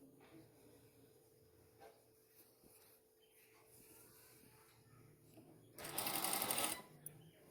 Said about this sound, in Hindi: अब मैं इसकी आसन की सिलाई लगा लूँगी दोनों साइड से